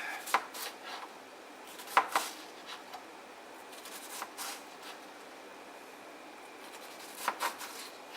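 A knife finely chops herbs for falafel on a cutting board: quick, irregular bursts of crisp chopping taps, close but fairly quiet, separated by short pauses.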